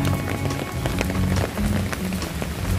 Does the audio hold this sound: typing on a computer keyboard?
no